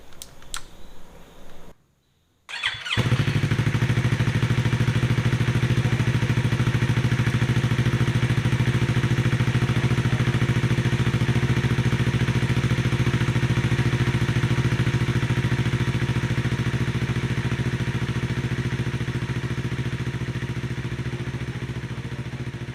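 A Yamaha R3 motorcycle fires up on its new battery after a short crank and brief pause, then settles into a steady, loud idle that holds close by for about twenty seconds.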